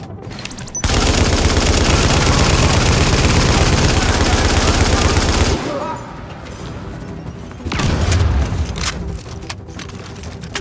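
Sustained automatic gunfire in The Division, a loud, dense burst lasting several seconds, then a brief lull and another short volley, close and dominant with no talk over it.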